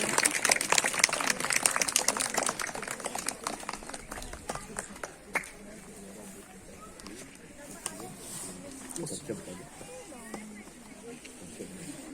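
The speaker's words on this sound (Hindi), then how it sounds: "चलिए जोरदार जोरदार तालियां" An audience at a clothes distribution event claps hard, the dense applause strongest at first and then thinning into scattered claps, with someone speaking over it.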